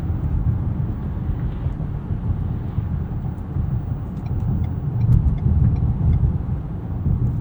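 A 2023 Ford Maverick XLT Tremor pickup with a 2-liter engine drives on the road, giving a steady low engine and road rumble heard from inside the cab that swells slightly midway.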